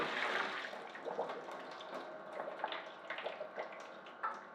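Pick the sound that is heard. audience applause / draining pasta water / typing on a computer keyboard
draining pasta water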